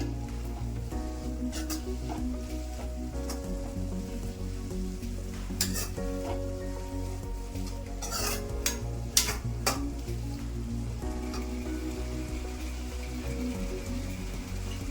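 Food frying gently in a pan on a low flame for a mint-leaf breakfast dish, stirred continuously. A steady close sizzle runs under repeated scraping strokes and occasional utensil clinks, with no one talking.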